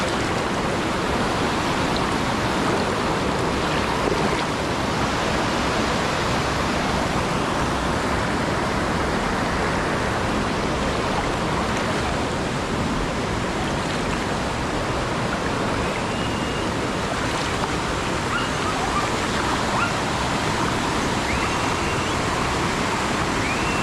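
River water flowing along the Dumaka River, a dense, loud, unbroken rush of broadband noise that holds steady throughout, with no clear voices above it.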